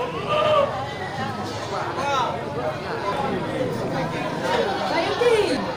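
Goats and sheep bleat repeatedly at the Grogol animal market, wavering calls rising and falling over a murmur of crowd chatter and nearby talk.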